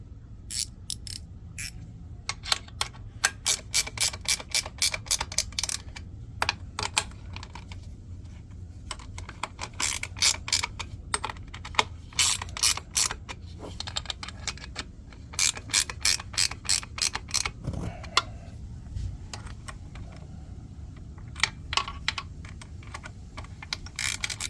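A hand ratchet tightens half-inch bolts in a circle while a Polaris booster pump is installed; quick clicking bursts repeat in close, loud runs with short pauses between them.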